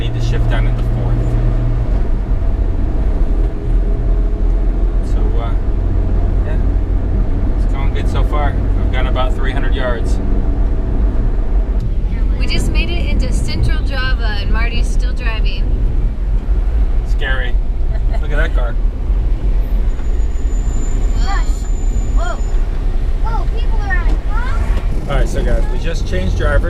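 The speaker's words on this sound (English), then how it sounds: "We're in third gear now, going about 45 kilometers an hour." A Daihatsu Gran Max rumbles along in third gear at about 45 km/h near Yogyakarta, a loud steady engine and road drone inside the cabin, with people talking over it throughout.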